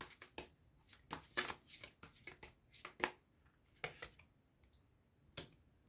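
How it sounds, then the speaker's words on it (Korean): Advice oracle cards being shuffled and drawn by hand: soft, close, irregular flicks and papery taps in short bursts with quiet gaps, fairly faint, no talking. "그 조언점 카드 한번 뽑아보도록 할게요."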